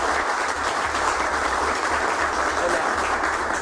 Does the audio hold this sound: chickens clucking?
no